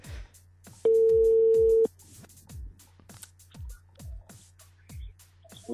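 A telephone line ringing during a live call on a tropical music radio show: one steady, continuous tone lasting about a second, set against a regular, repeating low thump.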